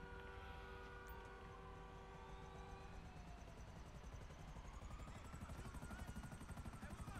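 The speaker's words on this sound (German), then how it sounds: "Endlich kann ich meinen scheiß Heli einsteigen." A helicopter in the video game GTA Online whirs steadily throughout, its rotor and engine drone loud and continuous with a rising whine and layered game noise.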